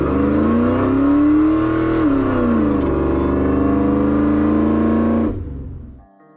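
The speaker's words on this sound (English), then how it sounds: "Here comes a car" A car approaches and drives past close by on a cold day, its engine note rising and shifting as it passes, loud and steady before fading abruptly away at the end.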